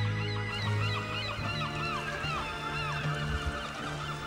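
A colony of gulls calling on islands in Lake Ladoga, with many overlapping loud cries and squeals from numerous birds at once, forming a dense, continuous chorus of calls.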